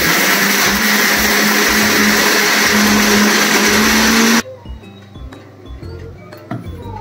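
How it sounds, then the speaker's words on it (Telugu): A mixer grinder whirs loudly as it grinds corn batter for bhajji, a dense close roar for about four seconds before it cuts off. Faint clinks and a quieter room are left afterward. "సో మనం ఇప్పుడు గ్రైండ్ చేద్దాము."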